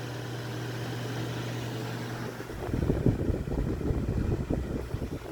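Vornado variable speed desk fan running near medium-high, a steady broadband rush of airflow with a low hum at first, then turning louder and more turbulent and gusty partway through, with no talking.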